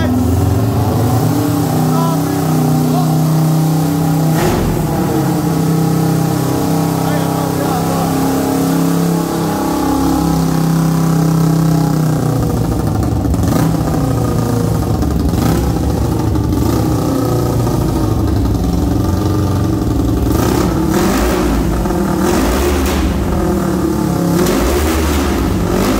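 A CB 300 two-cylinder motorcycle engine idles loudly close by, then revs repeatedly in sharp bursts, while people talk over it.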